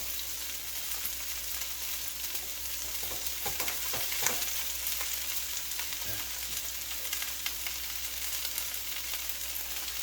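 Bean sprouts frying in a hot pan give a steady, dense sizzle with occasional sharper pops and stirring clicks, continuous and close for the whole stretch with no talking.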